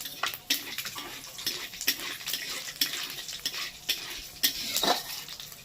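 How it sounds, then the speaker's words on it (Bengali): Whole spices for a tempering fry in oil in a pan. A soft continuous sizzle runs beneath repeated clinks and scrapes of a metal spatula stirring, all close and fairly quiet, with no voices. "ফোড়নটাকে একটু ভেজে নিই"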